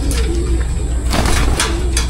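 Racing pigeons cooing close by during a training toss loading at Pagsanjan, Laguna, with a few soft repeated coos over steady outdoor background noise.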